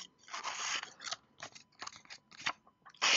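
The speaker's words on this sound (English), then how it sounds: "I'm always impressed when these large and thicker knives are very sharp out of the box and cut the paper cleanly" A Kizlyar Supreme Trident knife with a D2 steel blade slices through paper in a series of close, crisp rasping cuts of varying length, separated by brief pauses, with no talking.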